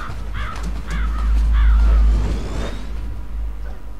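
A crow from the Metal Gear Solid game for the PlayStation caws three times in quick succession, harsh and fairly close, over a low droning game ambience with a soft whooshing swell.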